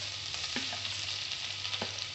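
Garlic sizzles in 3-4 tablespoons of hot oil in a pan, a steady close crackling hiss with a couple of faint utensil scrapes, heard alone.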